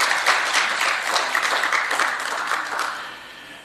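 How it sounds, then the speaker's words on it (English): An audience at a national dialogue on the right to food in Malawi applauds after a speech, steady dense clapping that gradually tapers off. "I think she deserves another round of applause"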